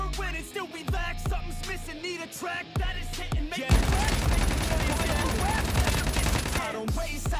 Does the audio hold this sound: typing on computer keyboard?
no